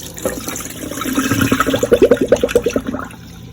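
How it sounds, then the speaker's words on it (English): Water swished by hand through raw white rice in a pot, a rapid series of rhythmic sloshing pulses, close and fairly loud, with no talking. "This is why you gotta wash your rice."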